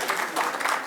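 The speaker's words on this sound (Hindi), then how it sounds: "डॉक्टर राजीव मिश्रा ताली बजा देंगे इस बात पे।" Brief burst of audience applause at a speech in Delhi, a dense, steady patter of many hands clapping heard alone for under a second.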